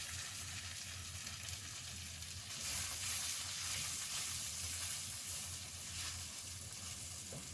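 Spice and fruit paste frying in a pan with onion and garlic, a steady close sizzle and hiss that swells slightly midway, with no voices over it.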